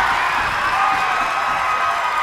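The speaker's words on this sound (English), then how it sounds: "getting the crowd in Wildcat Nation on their feet" A crowd cheers at a Division V semifinal high school basketball game, a steady roar of many voices that holds loud and unbroken throughout.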